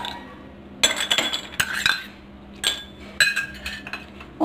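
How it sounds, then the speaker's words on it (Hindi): Ice cubes dropping into two glasses of lemon juice, giving bright clinks and rattling knocks in several separate bursts with short pauses between, close by and without talk. "अब इसमें मैं डालूँगी आइस क्यूब्स"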